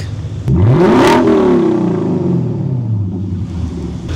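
A Ferrari engine is revved once in a sharp, loud climb that peaks and then winds down slowly into a rumbling idle. It sounds close, with no talk.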